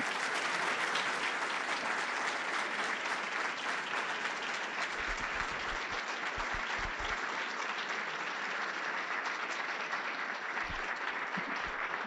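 Steady applause from a crowd at an awards luncheon, sustained clapping at an even level for the whole stretch without letup.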